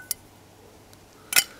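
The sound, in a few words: folding camping cookware, Fire Maple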